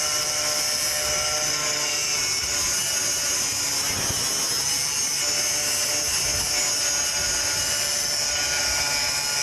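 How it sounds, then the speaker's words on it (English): An angle grinder cutting the compressor out of an old AC condenser, a loud continuous high whine with a steady roar throughout. "Here I'm just using a grinder."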